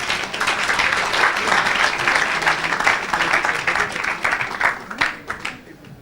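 An audience applauding in a dense, steady wash of clapping that holds for several seconds before thinning out toward the end, with a voice faintly underneath.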